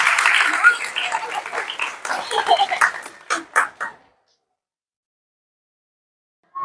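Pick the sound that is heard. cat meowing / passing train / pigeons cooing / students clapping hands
students clapping hands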